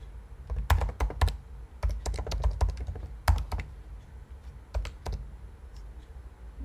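Someone types a command on a computer keyboard, a close run of crisp, irregular key clicks in quick bursts with short pauses.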